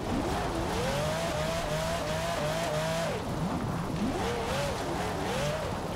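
A Ferrari 599 Formula Drift car skids through a slide in Forza Horizon 4, a steady engine drone under wavering tire squeal that swoops up and down continuously and loudly for the full stretch, with no talking.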